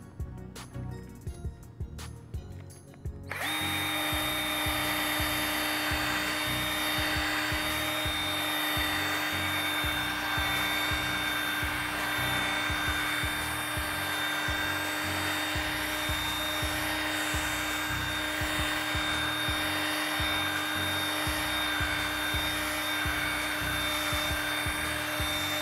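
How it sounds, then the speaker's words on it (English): A drill spins a polishing pad across car window glass to remove water spots. It gives a steady, close whine with a grinding rub that runs on without a break, after a few seconds of quiet rustling at the start. No one speaks. "And then we're going to start polishing it."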